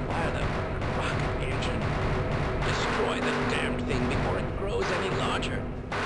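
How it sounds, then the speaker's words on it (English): Dense, continuous gunfire and booming blasts in the video game Half-Life, loud and sustained over a layer of game noise and a voice talking. "Those sound like guns."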